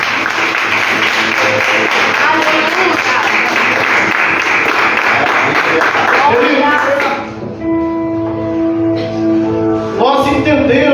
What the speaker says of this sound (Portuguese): Coloque a sua Bíblia no colo e dê um aplauso a Jesus bem forte